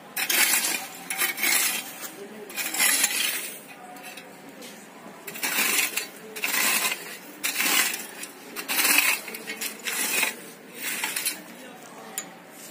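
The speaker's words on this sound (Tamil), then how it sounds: "அப்படியே மண்ணை களைய விடுறோம்." A 2-in-1 steel-blade hand weeder scrapes and grates through soil in repeated bursts of gritty metallic scratching, each lasting about a second, with short pauses between strokes.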